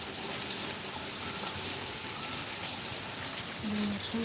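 Rain falls steadily at Srisailam, heard from indoors near a window as a dense, even hiss of drops on surfaces, with a faint tonal whine near the end.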